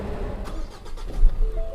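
A 2021 Ford Ranger XLT with a manual gearbox starting up: a brief cranking churn catches into a low engine rumble that swells and settles, heard close from inside the cab with no talk.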